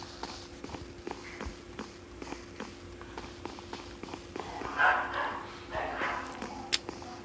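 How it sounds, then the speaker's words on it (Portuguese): Dogs out in the street of a video game bark faintly and at a distance, in repeated short yaps over a dim background hum. "ver esses cachorros lá na rua, tá fazendo barulho demais."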